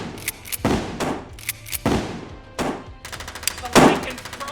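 Gunfire in a film battle scene, with loud, close bursts of shots and heavy booms in irregular volleys, ending in a rapid rattling burst.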